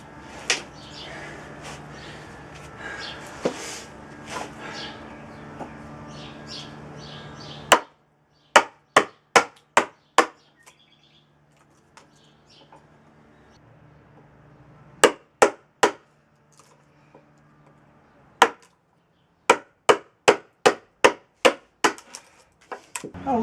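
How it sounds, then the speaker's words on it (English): Heavy chisel blows chopping into a large ash wood bowl ring out as sharp, loud, evenly spaced knocks in clusters of three to five, after a stretch of noisier workshop sound with no talking. "Some heavy chisel work."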